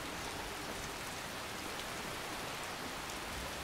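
Steady rain in the video game Skyrim pours down in a dense, even hiss, constant throughout with no voices.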